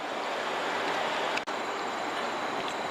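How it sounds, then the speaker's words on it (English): An LIRR Budd M3 commuter train, an electric multiple unit built in the 1980s, runs along the main line as a loud, steady rushing roar close by, with one brief sharp dip partway through. "chasing 1256 on number 2 track was 2072 from Penn Station, New York to Ronkonkoma with those Bud M3s built in the 1980s"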